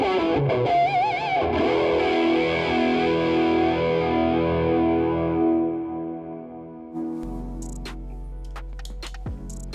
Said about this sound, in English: let's hear how it sounds with a little bit of chorus